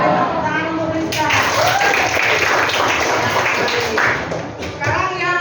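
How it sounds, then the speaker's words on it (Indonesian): A classroom of children clapping for a student named Miska after she answers a question about places of worship, a lively burst of applause that stays steady for several seconds and then fades as a teacher's voice returns. "Tepuk tangan untuk Miska"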